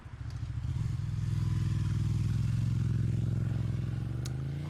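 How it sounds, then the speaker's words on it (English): A motorcycle engine in a video game revs up and pulls away, a loud, close, throaty drone that climbs in pitch and holds steady as the bike drives off, with faint clatter above it. "I rev my engine, feeling the familiar rush of adrenaline,"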